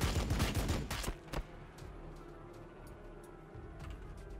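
Weapon shots in the Warhammer 40,000: Battlesector strategy game: a quick cluster of sharp, loud reports in the first second and a half, then a low, steady battlefield hum.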